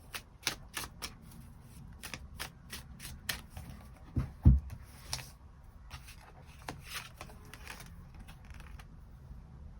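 Tarot cards are shuffled and drawn in a rapid series of crisp riffling flicks. A single louder snap comes midway, and the sounds are close and dry with no talking.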